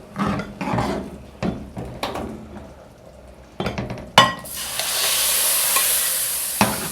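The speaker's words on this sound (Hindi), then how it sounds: "जैसे ही ये घी में उबाल आना शुरू होगा, इसको हम चनों के ऊपर उंडेल देंगे।" Hot ghee is poured over cooked chickpeas for Lahori chikar cholay: a few utensil clinks and stirring knocks, then a sudden loud, hissing sizzle that swells and lingers to the end.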